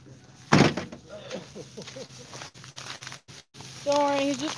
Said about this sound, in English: Right, now the door.